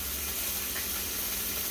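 Bacon sizzling in a 12-inch cast iron pan, a steady dense hiss and crackle holding at an even loudness throughout, close up, with no talking.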